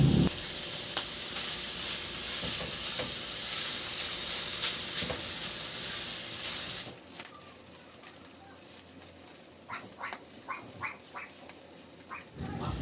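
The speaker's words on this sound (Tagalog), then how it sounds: "Ihalo lang hanggang sa maluto o mag-iba na ang kulay niya o hanggang sa maglabas na siya ng sarili niyang mantika" Ground pork for sisig frying in a pan, giving a steady loud sizzle that drops to a quieter crackle partway through, with a few light clinks near the end.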